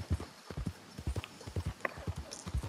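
Horse hooves clip-clopping at a steady galloping rhythm in the video game Red Dead Redemption 2, close and fairly loud, with a brief high whinny-like tone partway through.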